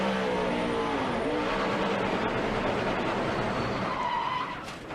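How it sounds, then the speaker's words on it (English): A NASCAR race car's wheels hop violently while cornering, producing a harsh rapid chatter and skidding tire noise over engine roar, loud and continuous, with a faint voice in the background. "Unbelievable wheel hop get down in that corner"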